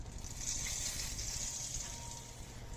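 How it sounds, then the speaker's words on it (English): Sesame oil poured into a pan in a home kitchen while cooking Thai food, heard as a soft, steady liquid trickle with a faint hiss, continuous and close, with no talking. "So I have the sesame oil, just a regular brand from Kroger. Just pour that in your pan."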